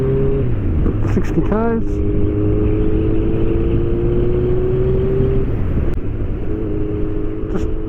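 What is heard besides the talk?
Kawasaki GTR1400 motorcycle with Delkevic full exhaust accelerating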